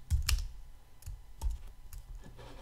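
Quiet keystrokes on a computer keyboard come in short irregular clusters of clicks with brief pauses between them, close up and with no voices.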